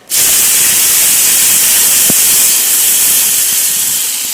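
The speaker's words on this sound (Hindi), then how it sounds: "और ऑयल के साथ मैं डाल दूंगी टमाटरों को।" Tomatoes dropped into hot oil for a spicy potato curry give off a loud, steady sizzling hiss that starts abruptly and holds at full strength, easing off only slightly toward the end.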